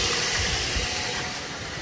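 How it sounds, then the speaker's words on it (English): Dodge Avenger engine idling and revving steadily after a throttle body replacement, a continuous broadband hiss-like drone with low rumble, fairly loud and unbroken, no talking. "the real test would be just to give it a little gas to see if we got some throttle response"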